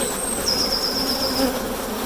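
Honeybees from a National 14x12 hive hum in a steady, close, continuous drone during a gentle open-hive inspection, with a thin high whine drifting above.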